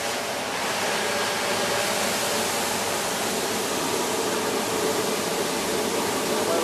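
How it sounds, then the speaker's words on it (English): Steady loud broadband roar of the vacuum blower on a Sivetz fluid-bed coffee roaster, a continuous hiss-like rush that holds unchanged from start to finish with no talk over it. "Turn on the vacuum."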